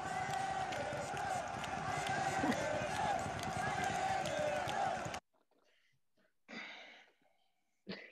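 A football crowd cheer of "Allez les Bleus" for the French team roars loud and dense for about five seconds, then cuts off to near silence with a few faint, brief sounds afterward.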